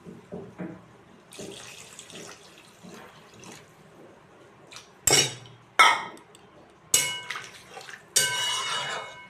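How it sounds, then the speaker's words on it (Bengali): Water goes into spiced curry masala frying in a pan for a rohu fish and taro curry. A few soft clinks are followed by several sharp, loud pouring bursts and a steady gush near the end. "এবার আমি এর মধ্যে দিয়ে দেবো জল।"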